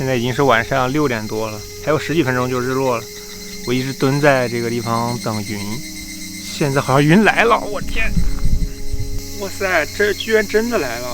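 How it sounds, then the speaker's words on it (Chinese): Cicadas and other insects drone steadily across a mountainside forest at dusk, a loud continuous buzz sitting under a close voice talking excitedly most of the time. "还有这满山遍野的知了声、"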